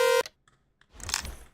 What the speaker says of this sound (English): got a car horn here.